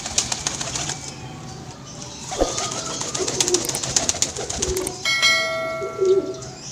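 Male pigeon courting a female collared dove, with soft cooing calls close by among other bird sounds, brief flapping and a few sharp metallic rings near the end.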